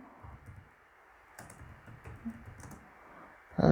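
Keys clatter on a computer keyboard as a subheading is typed into a document, in a quiet run of soft, irregular taps with one louder thump at the end.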